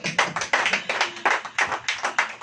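A church congregation clapping hands together in a steady rhythmic beat, about four claps per second, crisp and fairly close, with no talking over it.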